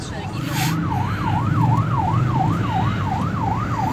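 An ambulance siren wails in a Karachi traffic jam, rising and falling in a steady, rapid cycle. It is loud and close, over a low rumble of idling traffic.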